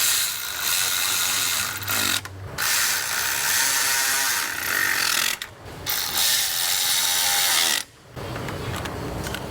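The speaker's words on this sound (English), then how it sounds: "This little ratchet is a little badass, I'll tell you what." A small ratchet rapidly clicks while tightening intake bolts on a Jeep Cherokee engine, in three long buzzing runs separated by brief pauses, loud and close.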